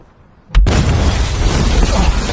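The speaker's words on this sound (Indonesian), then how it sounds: "ledakan tersebut membuat Kuki terlempar beberapa meter" A sudden loud explosion bursts in after a brief sharp crack, followed by a sustained roaring rumble that fills the rest of the clip.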